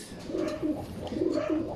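Racing pigeon coos at a loft during a fun race, a series of soft, low, rolling coos repeating close by with faint background ambience.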